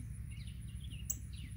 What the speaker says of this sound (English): I hear a mama bird somewhere, and she's probably aware that her baby's on the ground.